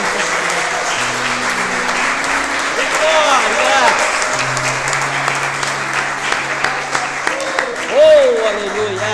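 A church congregation at a daily worship service claps in a steady crowd patter while a voice talks over it and sustained organ or keyboard tones play underneath.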